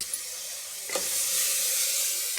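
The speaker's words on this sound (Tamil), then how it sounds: "2 தக்காளி பொடியாக நறுக்கினது அதையும் வதக்கிக்கலாம்" Finely chopped tomatoes sautéing in a pan with onions and a little salt for a pea and chickpea curry, a steady soft sizzle throughout that swells louder about a second in as more goes into the hot pan.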